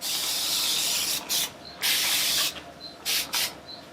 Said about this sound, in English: I go ahead and just use whatever excess water I have in my bottle. I spray it all over